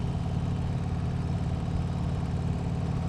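A 2025 Harley-Davidson Low Rider ST motorcycle engine runs steadily, a loud close low rumbling drone with even pulsing throughout.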